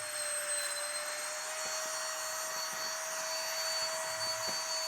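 A vacuum hoses air out of a 60-litre carry-on compression backpack, a steady loud whining roar with a high tonal whistle that holds unbroken throughout, close to the microphone and alone.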